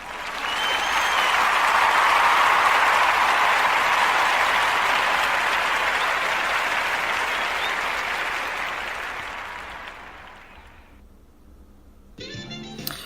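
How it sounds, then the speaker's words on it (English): Sustained applause from a large crowd at a live music show finale, loud and steady for about ten seconds before tapering off, with a brief burst of noise at the end. "Let's give a round of applause"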